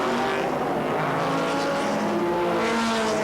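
Classic race cars, including a Ferrari, Cobras and a Ford GT40, roar together at a standing start on a small winding circuit, a dense, loud, continuous engine drone with no voices.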